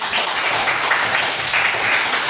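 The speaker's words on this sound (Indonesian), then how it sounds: "kalau udah ada, beri dulu tepuk tangan teman" Classmates in a classroom give a round of applause, a loud, uniform hiss of many hands clapping at once that holds steady throughout without a break.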